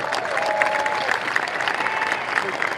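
A crowd at a live Mustang debut event claps and cheers loudly throughout, with a few whoops rising above the steady applause.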